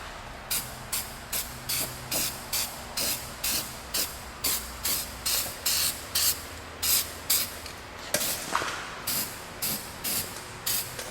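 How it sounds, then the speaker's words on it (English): Short, regular bursts of hissing spray from an aerosol spray-paint can, about two per second, close up and loud, continuing steadily without any talk, during a car rust repair. "when you're done spraying with stuff, hold the can upside down and spray it like this"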